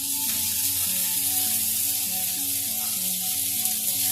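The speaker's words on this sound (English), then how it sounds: "I'm just searing these" Meatballs searing in a pan give off a loud, steady sizzle and crackle that holds without pause, with no voices.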